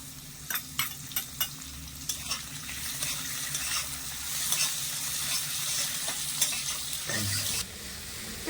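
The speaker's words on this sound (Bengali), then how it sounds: "এখানে আমি ক্যাপসিকাম আর টমেটোটা দিয়েও খুব সুন্দর করে একটু ভেজে নেব" Capsicum and tomato fry with semolina in a pan, a steady close sizzle broken by repeated scraping stirs of a spatula against the pan.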